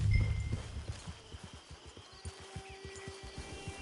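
Horse hooves clip-clop at an even walking pace in Red Dead Redemption 2, a run of distinct, soft thuds on the ground that follows a brief louder rustle, with faint ambient tones beneath.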